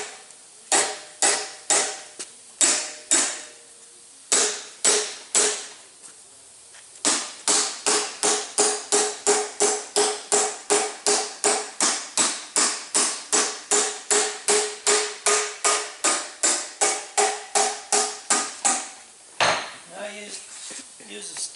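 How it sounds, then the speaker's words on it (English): A hammer knocks metal wing-ribs into notches with sharp metallic taps. A few spaced strikes come first, then a long steady run of rapid close blows, loud and near with no talk. "So you want to take the side of your hammer,"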